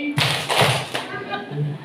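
Women in an audience clap twice on cue in short, firm bursts, repeated in a pair of claps followed by another pair, close and fairly loud with a voice speaking between them.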